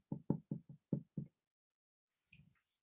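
Someone imitates knocking on a door with six quick, close knocks in a fast rhythm, followed after a pause by a brief fainter muffled sound.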